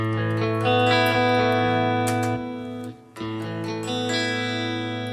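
A clean electric guitar with Roswell pickups rings out sustained chords with a bright, shimmering tone, briefly dipping before another chord swells back in.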